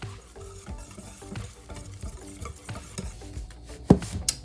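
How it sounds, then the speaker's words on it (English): A whisk beats a mixture with date milk in a bowl, giving a quick, rhythmic run of soft scraping and tapping strokes close at hand, ending with a sharper knock. "Whisk that all together"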